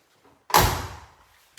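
A Porsche 944 in Rothmans rally livery has its door shut with a single solid thump, close and fairly loud, fading out quickly.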